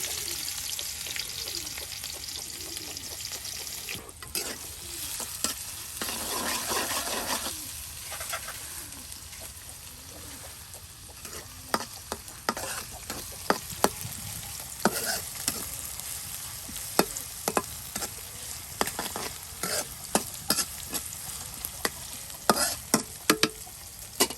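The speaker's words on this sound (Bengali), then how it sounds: "একদম তেলের সাথে আপনার জিরা এলাচ পেঁয়াজ একসাথে একদম ভাজা ভাজা করে নেওয়া হবে" Cumin, cardamom and chopped onion fry together in oil with a constant crackling sizzle, broken by frequent spatula scrapes and clicks. The sizzle is fairly soft and close, with no talk.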